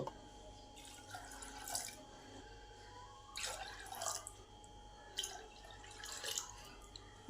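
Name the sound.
pouring water onto chana dal in a pressure cooker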